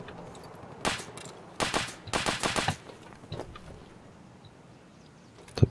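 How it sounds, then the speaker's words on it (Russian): Bursts of gunfire in the shooter game Escape From Tarkov: a single crack, then two rapid automatic volleys, then a couple of scattered shots, all echoing at moderate distance against quiet ambience. "Опять звуки стрельбы какие-то непонятные."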